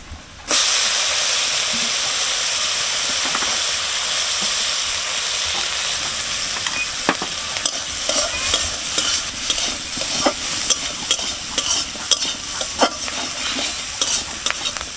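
Prawns drop into hot oil with fried onion and green chilli in a wok, setting off a sudden loud sizzle that holds steady, while a spatula scrapes and taps in an irregular rhythm.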